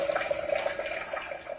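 Water flushes through an SD 501 device during its cleaning process, a faint, steady rushing with light bubbling and no speech.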